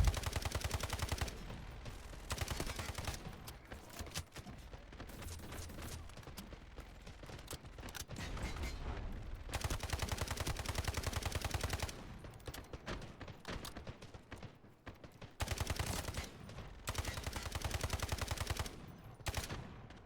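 Rapid automatic gunfire from the Delta Force video game fires in repeated long bursts separated by short pauses, loud and close, with no talking over it.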